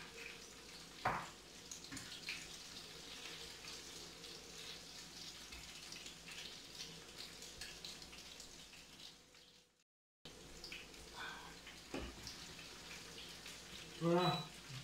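Potato fritters sizzle and spatter steadily in a frying pan, a continuous crackling hiss with occasional louder pops and a short break, a voice talking over the cooking.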